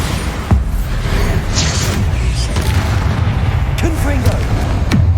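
A Bombarda spell explosion in Hogwarts Legacy, a series of deep booming blasts over a steady rumbling game soundscape with short whooshing spell effects.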